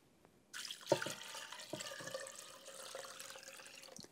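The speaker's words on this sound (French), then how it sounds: "Je mets de l'eau froide à hauteur." Cold water runs from a tap into a cooking pot holding chunks of veal for a blanquette, a steady close pour starting after a brief quiet moment and continuing with a soft splashing rush.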